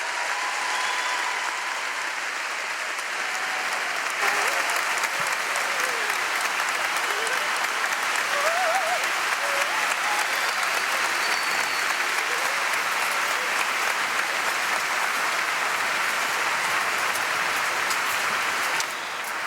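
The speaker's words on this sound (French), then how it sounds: "Longs applaudissements pour le pape François dans cette aréna de Malmö, dans ce stade." Sustained, dense applause from a large crowd filling the Malmö arena for Pope Francis at an ecumenical gathering with the Lutheran World Federation, steady and loud for the whole stretch.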